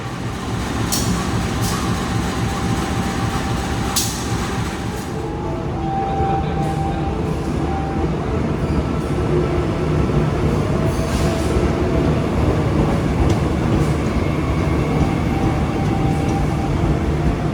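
Steady rumble and rattle of a Bogowonto economy-class passenger train in motion, heard from inside a carriage, with continuous low wheel and track noise, occasional clunks and faint squeals, and no talking.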